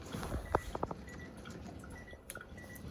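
Food being rinsed in tap water during a water demonstration, with light drips, small splashes and sloshing close by and no speech.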